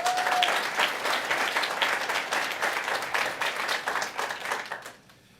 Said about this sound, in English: Please give a round of applause for Vice President in Corporate Strategy at Infrastructure Ontario, Marsha Seca.